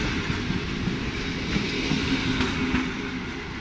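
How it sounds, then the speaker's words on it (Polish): A PKP Intercity train departs Elbląg station, its steady low rumble and faint rail clatter continuous and fairly close, with no talk over it. "I pojechał już ze stacji Elbląg do stacji Olsztyn Główny."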